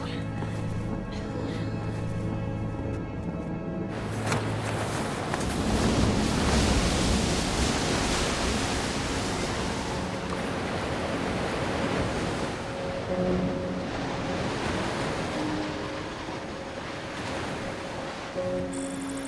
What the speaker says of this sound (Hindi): समंदर शांत हो गया है सर।